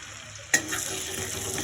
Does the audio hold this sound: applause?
no